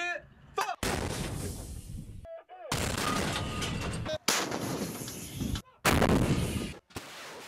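Live artillery fires during a Chinese army drill, with several heavy, close blasts that each roll on into a long, dense rumble, separated by brief gaps where faint radio-like sounds come through.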